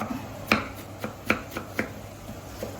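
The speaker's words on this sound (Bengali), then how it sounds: "এখানে ধনে পাতা কেটে দিচ্ছি" Knife chopping fresh, tender coriander leaves on a board while making a fish-fry spice mix: a few sharp, separate cuts spaced about half a second apart, close and fairly quiet, with no talking.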